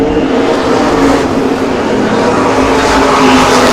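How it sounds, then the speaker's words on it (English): Modified race cars charge into the corners at an oval short track during an opening-night event, engines roaring loud and continuous at close range with a steady, sustained drone. "Man, that 20 car is just charging into the corners."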